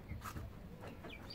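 Young chicks clucking and peeping on a farm where children feed the animals, a few short calls over a steady noisy background.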